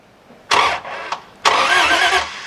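The Hemi V8 engine of a 1951 Chrysler Saratoga limousine cranks in two bursts, the starter churning briefly, pausing, then grinding again without catching, loud and close; no power reaches the coil.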